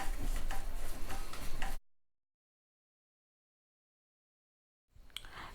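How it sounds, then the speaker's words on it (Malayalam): Carrot halwa mixture with a spoonful of sugar stirred in a pan, a scraping, ticking stir heard close for under two seconds, then a long silent gap before a brief return of the stirring. "ഇത് നന്നായിട്ടൊന്ന് മിക്സ് ചെയ്യാം"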